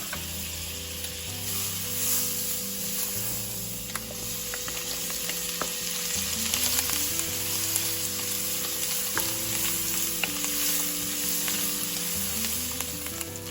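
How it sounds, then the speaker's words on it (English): Pancetta fries in hot, frothy butter with a steady close sizzle that runs the whole time, alongside a light bed of background music and occasional stirring scrapes. "Because what we're gonna do is we're gonna fry the pancetta"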